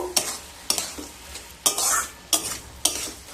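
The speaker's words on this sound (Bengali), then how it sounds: "আর উপর থেকে 1 চামচ ঘি দিয়ে দেব। দিয়ে খুব ভালোভাবে মিশিয়ে নেব।" Lau shukto, a Bengali bottle gourd curry, being stirred in a pan after sugar and a spoon of ghee are added: five sharp scraping strokes with a soft sizzle beneath, close and fairly loud, no talk.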